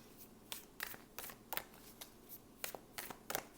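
A round Mother Peace tarot deck being shuffled by hand, with quiet, close riffling bursts repeating in an irregular rhythm about every half second.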